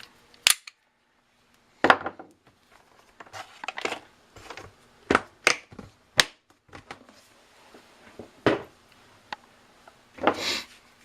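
Springfield XDs .45 ACP pistol handled to show it is clear: a series of sharp metallic clicks and clacks, with a slide racking and parts snapping, spread irregularly across the clip, close and fairly loud with no talking.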